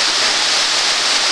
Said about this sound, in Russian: Вот такая вот речка. И вот такой вот водопадик.